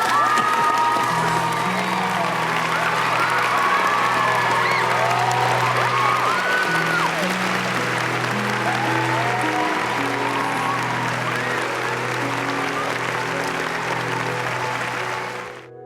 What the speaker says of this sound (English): With the crowd shouting wildly for Augie